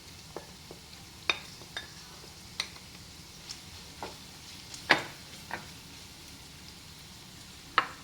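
Onions stirred in a frying pan, a low steady sizzle broken by a series of sharp scraping taps from the spoon at irregular intervals, close and fairly quiet.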